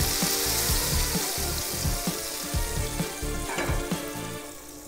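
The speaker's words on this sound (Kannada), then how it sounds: "ಇಲ್ಲಿ ಆಗ್ತಾ ಇರುವಂಥ ಒಗ್ಗರಣೆ, ಈ ಒಗ್ಗರಣೆನ ಈ ಪಾಯಸದ ಮೇಲೆ" Tempering (oggarane) crackles and sizzles in hot oil for payasam, a dense steady frying hiss with rhythmic low stirring or scraping knocks throughout, close and fairly loud.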